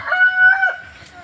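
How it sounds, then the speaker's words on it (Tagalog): A chicken's drawn-out, tonal call from a small backyard coop, close and fairly loud, lasting about a second with a slight wavering pitch. "Dito tayo ngayon sa aking munting manukan"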